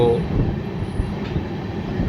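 Sairang Express train running on the line toward Nasipur rail bridge, heard from on board as a steady, loud rolling rumble of wheels and carriages with faint rhythmic clatter throughout.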